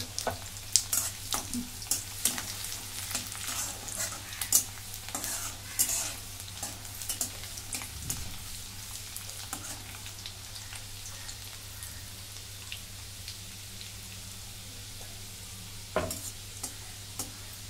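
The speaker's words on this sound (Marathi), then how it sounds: "आणि हा बारीक लसूण घेतलेला आहे चिरून, तो टाकून जरासा लसूण भाजून द्यायचा" Finely chopped garlic frying in a pan for bitter gourd bhaji, a constant crackling sizzle under frequent scraping stirs, busy at first and easing off later, close and steady.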